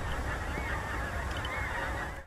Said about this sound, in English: This winter at Martin Mere we had some fantastic numbers of Whooper swans.